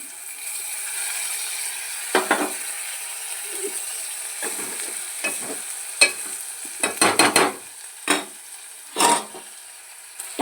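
Ginger paste and turmeric fry lightly in a pan under a soft, continuous sizzle, interrupted by repeated scraping and clinking strokes of a stirring utensil against the pan, with no talking.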